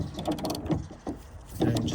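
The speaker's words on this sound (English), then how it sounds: "We're just going to grab the ratchet" A ratchet tightens a bolt on a Fiat Punto rear door handle, with a few quick bursts of clicking mechanism close by, separated by short pauses.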